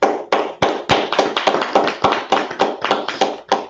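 A group of people clap at a religious gathering, a close burst of loud, quick, slightly uneven claps that carry on for a few seconds.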